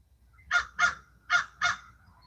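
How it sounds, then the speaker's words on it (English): Birds call outside a house at dawn, four loud harsh crow-like caws in two evenly spaced pairs, close to the microphone, with quiet low background hum between them. "You guys get to hear the birds."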